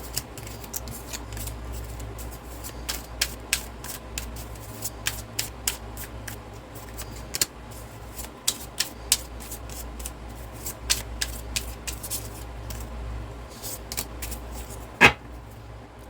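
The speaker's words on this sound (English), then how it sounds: "Let's get 3 tarot cards here." Tarot cards being drawn and handled, with repeated soft crisp flicks and snaps of card stock over a low steady background hum, plus one sharper tap near the end.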